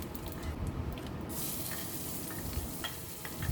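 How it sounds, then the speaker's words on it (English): Thinly sliced shallots sizzle steadily in a hot pan while a utensil stirs them, the frying hiss continuous and close with light scraping throughout and no talking. "Stir them well until the shallots get soft"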